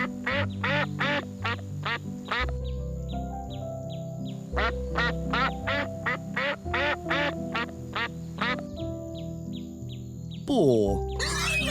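A duck quacks in quick repeated bursts over a steady low farmyard drone, pausing briefly around the middle before another run of loud close quacks, ending in a sharp rising call.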